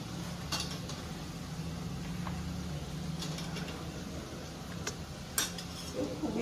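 Cabbage curry cooks in a pan at home, with a soft sizzle under light scraping and stirring and a few sharp clinks of a metal utensil against the pan. There is no talk.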